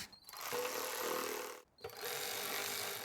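A power tool snugs down transmission pan bolts on a 2003-2009 Toyota Camry, making two close, loud bursts of whirring ratchet noise split by a brief pause.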